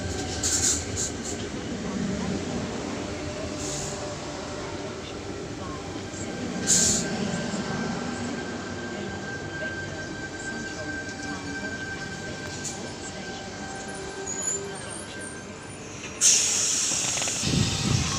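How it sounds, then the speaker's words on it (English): A Sydney train pulls in at platform 3 of a station, a low rolling rumble with hissing and a faint sustained tone, building and easing over the stretch, with a sharp burst near the end and a voice faintly in the background. "We have T92 arriving into platform 3, Bondi Junction service."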